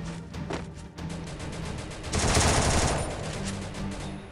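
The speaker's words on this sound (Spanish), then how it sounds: "Están disparando del desnivel" Rapid automatic gunfire in the mobile battle royale shooter Free Fire, dense bursts of shots that swell louder mid-way, a close and sustained volley with no voices over it.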